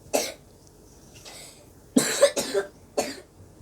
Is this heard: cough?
yes